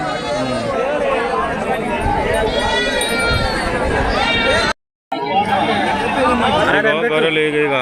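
Bleating sheep mix with loud, busy chatter from a crowd nearby at a sheep market in Prakasam, Andhra Pradesh, the voices dominating, with a short gap of silence partway through.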